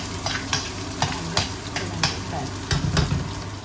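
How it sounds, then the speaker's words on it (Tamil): Onions are stirred and sautéed in a pan for a Sinhala-style cashew curry, with a continuous sizzle and repeated soft scrapes of the spoon against the pan at a steady rhythm. "வெங்காயத்தையும் உள்ளையும் வதக்கி போட நல்லா வதக்கினாங்க"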